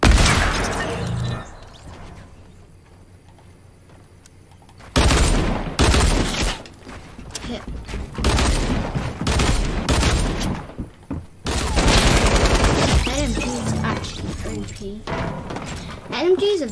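Machine gun fire in the Fortnite video game, dense bursts of rapid shots and shattering impacts in clusters, with a voice talking over the loud gunfire.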